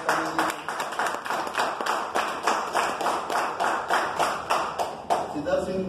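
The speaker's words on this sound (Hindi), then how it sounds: "उनके लिए भी जोरदार तालियां" Audience clapping at a business meeting, a steady run of sharp individual claps layered over one another throughout, with speech or cheering mixed in underneath.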